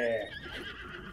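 A horse in The Legend of Zelda: Breath of the Wild gives a short, loud whinny that trails off quickly, with faint hoof clatter underneath.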